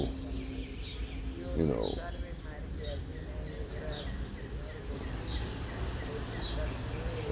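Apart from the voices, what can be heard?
birds chirping outdoors in the Bronx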